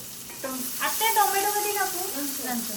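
Onion, chili and tomato fry in a pan for pithla, giving a steady hissing sizzle as a voice talks over the cooking.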